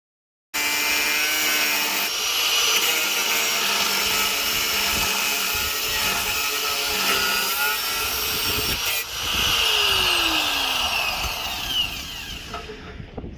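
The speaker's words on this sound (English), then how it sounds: "resort to a grinder" An angle grinder cutting through welded-on bolts under a Honda Civic Type R, a loud, continuous high-pitched whine that runs unbroken for about twelve seconds, pitch shifting as the disc bites.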